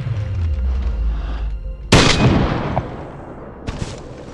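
A single sharp sniper gunshot in the survival game DayZ cracks loud and close, trailing into a rumbling echo, followed by a fainter second report near the end.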